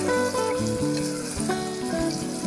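Food sizzles steadily while sautéing in a hot frying pan for turmeric root tamarind curry, with tuneful background music playing over the crackle the whole time.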